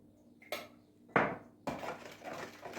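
Flour and salt being stirred in a bowl for lahmacun and simit dough, heard as a few sharp knocks and scrapes of a utensil against the bowl followed by steady, close mixing.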